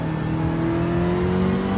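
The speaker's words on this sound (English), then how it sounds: "just hear the wheel spin" A 1988 Nissan Silvia S13 with a swapped engine revs hard while the rear wheels spin, making a loud, continuous, slightly rising drone with a steady whir.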